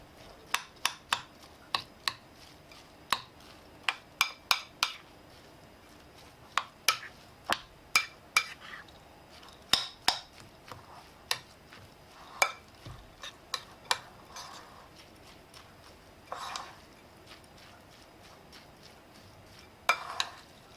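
Cabbage roll filling is mixed in a bowl with a utensil, sounding as close, irregular sharp clinks and scrapes against the bowl, with short pauses between strokes.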